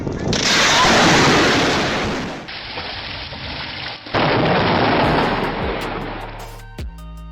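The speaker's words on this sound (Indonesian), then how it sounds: "Berikut beberapa cuplikan betapa dahsyatnya suara petir di Venezuela itu." Deep, rolling thunder over Lake Maracaibo, Venezuela, rumbles loudly over steady heavy rain, swelling and fading, then a second long roll, with a few drips at the end.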